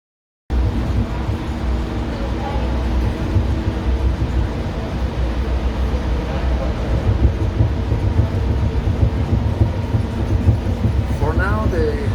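Interior of a new driverless BTS Gold Line sky train in Bangkok, with a steady low rumble and hum of the carriage running throughout, plus a brief rising whine near the end; people talk faintly over it.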